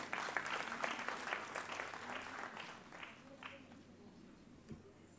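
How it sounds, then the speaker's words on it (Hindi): Applause from an audience at a Sikkim Culture Department ceremony, a dense burst of clapping that gradually thins and fades over several seconds. "एक बार जोरदार तालियां होनी चाहिए।"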